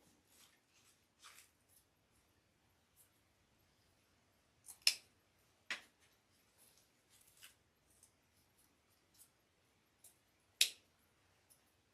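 Scissors trimming decorations on an Easter bunny wreath: scattered crisp snips and rustles, a few sharper cuts standing out against near silence.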